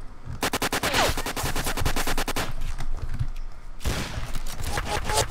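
Rapid automatic gunfire in the Roblox game Apocalypse Rising, loud dense bursts that repeat in quick rhythm, stop briefly, then resume.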